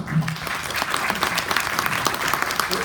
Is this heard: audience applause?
yes